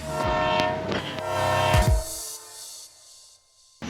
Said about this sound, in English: As soon as I got there, the train was pulling up